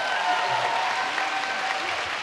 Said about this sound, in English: big round of applause for the Dudley Forum.